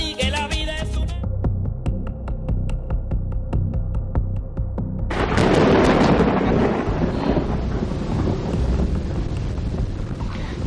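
Deep rolling thunder over Quito, a long low throbbing rumble that swells loudly partway through and stays heavy with wind-like noise, preceded by a brief musical jingle.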